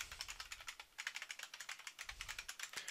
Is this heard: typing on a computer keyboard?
yes